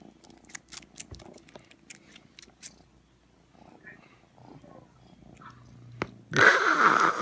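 A cat purrs softly and close while nibbling a person's earlobe, with small scratchy rustles early on and a loud burst of close purring near the end.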